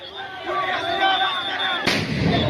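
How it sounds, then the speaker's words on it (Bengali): A sound grenade bursts with a sharp, loud bang during a street protest where police face advancing students, cutting through a continuous roar of crowd noise. "এবং আবারও একের পর এক সাউন্ড গ্রেনেড ছোড়া হচ্ছে।"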